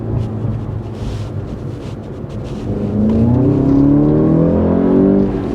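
A VW Golf GTI Clubsport S, the record-setting front-wheel-drive hot hatch, drives the Nordschleife, its engine note rising in pitch as it accelerates hard and grows louder in the second half, close and steady with no talk.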